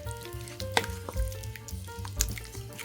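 Potatoes and peas stirred through a thick beef stew in a pot, a close, continuous wet bubbling and squelching with a couple of soft spoon knocks, no talking.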